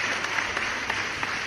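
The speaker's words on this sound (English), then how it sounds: "Applause, applause." Brief patter of applause during a live online stream, fairly soft and steady with a few sharper claps standing out, no voices over it.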